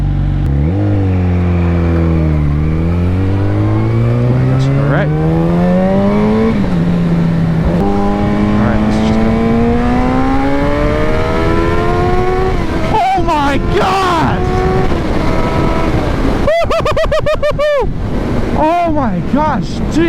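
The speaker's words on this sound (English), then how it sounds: "I think a bike that has a muffled exhaust note sounds better than one that's just fully straight piped." A naked motorcycle with a muffled aftermarket exhaust revs repeatedly, engine pitch climbing and falling through long pulls, then sharp quick blips near the end; close and loud, with speech breaking in between revs.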